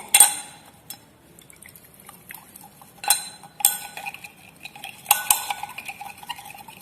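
A glass rod stirs copper sulphate solution in a glass beaker, giving scattered light clinks and taps against the glass with soft swirling between them, close and alone.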